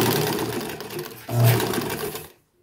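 Sewing machine driven by a washing machine (tanquinho) motor, running loud and close in a steady whirring drone that rises in speed midway, then stops abruptly near the end.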